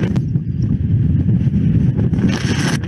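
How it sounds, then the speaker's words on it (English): Strong wind on a climb of Mt. Rainier's Liberty Ridge near Thumb Rock, loud continuous low roaring buffeting against the microphone, with a brief hissing gust near the end. "What you can't hear me saying is it's windy."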